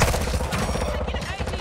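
Rapid gunfire in Call of Duty Modern Warfare II Warzone 2.0 DMZ mode, a loud dense burst of repeated shots at close range, with a voice mixed in underneath.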